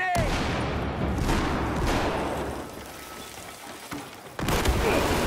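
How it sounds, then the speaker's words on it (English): Gunfire and a grenade blast from a Battlefield 4 team deathmatch on the Dawnbreaker map: dense, loud crackling bursts of shots with a heavy boom, shifting between close and more distant fire. "Grenade out!"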